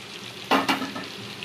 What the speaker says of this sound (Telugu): కానీ కారం వేసిన వెంటనే నేను కరివేపాకు వేస్తాను,